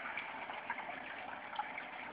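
Steady rushing of water pouring down a small waterfall in a three-tier masonry aquarium with a styrofoam base, a continuous close splashing flow with no talk.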